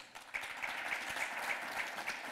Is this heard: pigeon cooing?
no